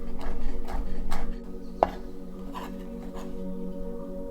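Knife chopping fresh herbs such as sage on a board, a handful of soft, evenly spaced cuts in the first half, then quieter with one sharp knock near the middle, close and alone in a calm kitchen.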